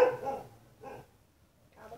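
A dog barks in three short bursts spaced about a second apart, close by and moderately loud, with quiet gaps between them.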